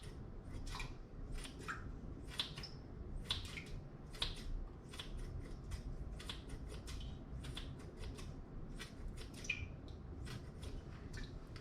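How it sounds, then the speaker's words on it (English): Knife cutting sausage into small chunks for seafood soup, a steady run of quick crisp chopping taps on a board over a constant low background hum, close and fairly quiet. "I'm going to cut the meat up, the sausage, into little chunks"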